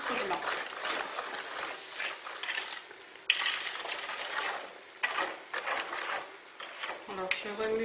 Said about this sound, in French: Alors je remue un petit peu et je laisse porter à ébullition